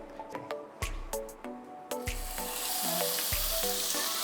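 Lamb chop fat sizzling in a pan: a soft hiss that swells into a steady, brighter sizzle, with a few knocks and clinks of utensils near the start.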